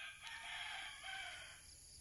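Chickens crow and cluck faintly in the distance over a steady outdoor background hiss.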